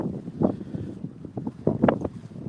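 Gusty wind buffets the microphone at a boat dock on Long Island Sound, a steady low rumble with repeated louder gusts swelling and fading throughout, with no talk over it.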